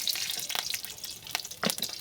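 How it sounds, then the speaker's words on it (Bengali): Green chillies hit hot oil in a wok with a soft, crackling sizzle, punctuated by a few louder spits and stirring noises, fairly quiet and close. "শাক ভাজার জন্য কড়াইতে তেল দিয়ে দিলাম।"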